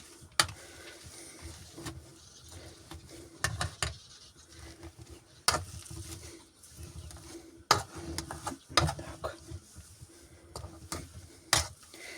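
Potato mixture being mixed and kneaded by hand for potato rings, producing soft squelching pats and sticky slaps in irregular bursts, close and fairly quiet.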